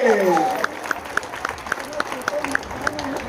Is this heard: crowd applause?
yes